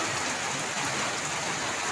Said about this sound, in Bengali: শুরু হয়ে গেল তুমুল বৃষ্টি